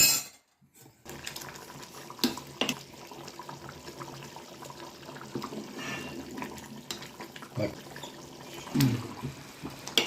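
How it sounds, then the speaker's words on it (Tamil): Mushroom curry gravy simmers in a pot, giving a faint, steady bubbling with occasional soft pops and no voices. "நல்லா கொதிக்கட்டும்."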